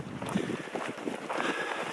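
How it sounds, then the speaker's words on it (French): Strong desert wind buffets the microphone during a stage of an ultramarathon through dry Saharan terrain, a continuous loud roar with gusty swells and no pause, close and enveloping. "Il y a beaucoup de vent, il fait même assez frais"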